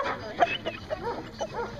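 A 3-year-old male Belgian Malinois at a Dock Dogs event gives a quick run of sharp, clipped barks, loud and close against a busy outdoor background.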